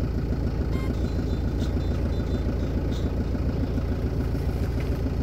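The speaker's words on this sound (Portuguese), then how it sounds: "Liguei o carro." A car engine idling steadily right after being started, a constant low rumble close by with no talk.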